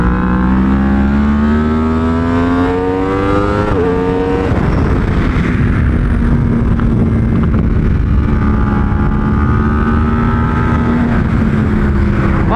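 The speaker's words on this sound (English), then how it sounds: "Unbelievably fast motorcycle, dude." A Yamaha R1 screams up through the revs on a race track, a loud rising wail interrupted by a quick upshift, then holds a roaring high-rpm drone with wind noise.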